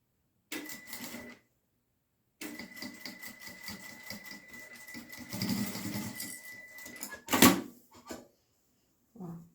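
A sewing machine stitches a surgical cap in short whirring runs, stopping and restarting, with a louder mechanical clack near the end before it falls quiet.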